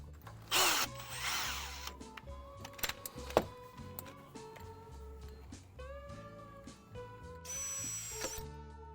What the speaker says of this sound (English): Glad I brought my other drill.